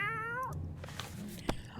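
A cat in the video game 60 Seconds! Reatomized gives one clear, rising-then-falling meow when petted, followed by soft game ambience and a small click.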